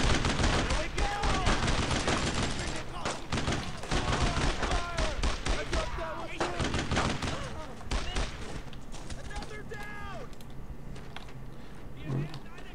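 Gunfire in the WWII video game Brothers in Arms: Road to Hill 30, dense overlapping bursts of rifle and machine-gun shots crackling steadily throughout, with voices talking over the battle.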